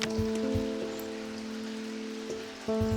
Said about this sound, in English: I like the rain. It is quite cozy.